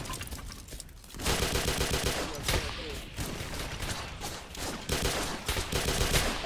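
Rapid automatic gunfire from a Roblox game crackles in dense, sustained bursts, fairly quiet and steady, with a player's voice faintly underneath.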